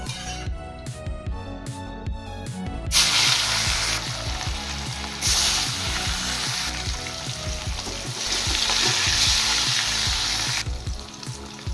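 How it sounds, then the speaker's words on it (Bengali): Turmeric-and-salt-rubbed fish dropped into hot oil for a Bengali drumstick and mango dish crackles into a loud, steady sizzle that swells and fades in waves, with background music running underneath. "তেল গরম হয়ে গেছে, এবার আমি মাছগুলো ছেড়ে দেব।"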